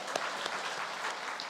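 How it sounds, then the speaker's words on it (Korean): A church congregation breaks into steady applause, a dense, even wash of clapping from many hands that holds for a moment without a break. "박수"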